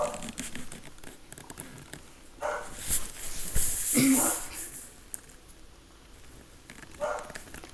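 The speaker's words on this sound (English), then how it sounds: "Sorry if you hear my dog barking." A dog barks a few times at a distance, mixed with rustling and handling noises, while someone talks in the foreground.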